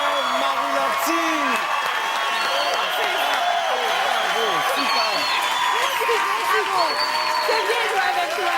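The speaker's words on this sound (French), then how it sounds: "On applaudit Marie Lortie." A crowd claps and cheers, with whoops and excited voices rising over the steady applause.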